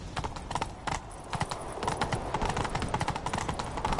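Roach, Geralt's horse in the video game The Witcher 3, gallops hard in a chase, with rapid, steady clip-clop hoofbeats that run continuously and up close.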